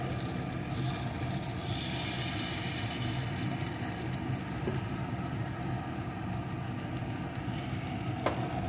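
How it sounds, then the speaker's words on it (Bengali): Egg and oats batter spooned into hot oil in a pan for egg paratha, giving a steady, close, continuous sizzle and crackle with no talk over it. "তেলটাও গরম হয়ে গেছে এখন যে ব্যাটারটি তৈরি করে রেখেছিলাম ব্যাটারটি থেকে চামচে করে নেব আর এইভাবে গোল আকারে দিয়ে দেবো"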